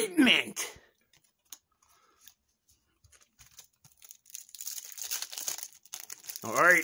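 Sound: tearing open a UTZ baseball trading card pack wrapper

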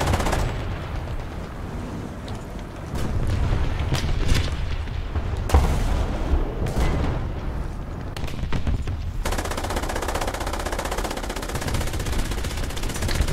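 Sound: gunfire and explosions in War Thunder tank battle video game

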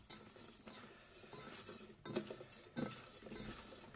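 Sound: stirring salted eggplant cubes in a bowl

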